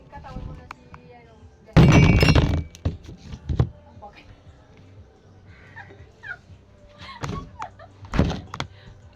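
Heavy wooden thuds come from a table giving way under hard chopping while a pig is butchered outdoors. One loud burst of impacts is followed by scattered knocks and a final strong blow near the end.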